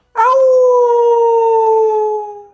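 A person imitates a wolf howl with one sustained voiced howl that holds steady for about two seconds, then fades, loud and close.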